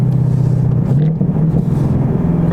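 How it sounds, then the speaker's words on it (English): A 2020 Mustang EcoBoost High Performance with a modified exhaust and resonator delete revs loudly and close, a deep droning rumble that wavers slightly in pitch as the throttle changes. "it sounds really good on this car because I've modified the exhaust a little bit"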